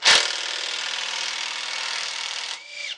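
A Hitachi power tool whirs steadily for about two and a half seconds while removing a part from a 1978 Gilson snowblower, then winds down, close and alone.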